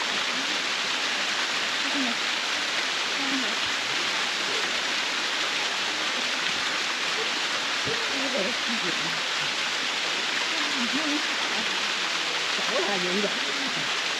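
Water rushes down a sticky waterfall in Thailand as a dense, steady hiss that stays constant throughout, with occasional speech faintly mixed in.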